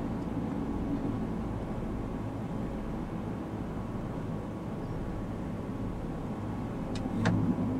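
Steady, droning engine roar from a de Havilland DHC-4 Caribou twin-engine aircraft at full power in Microsoft Flight Simulator, continuous and even throughout, with a brief click near the end.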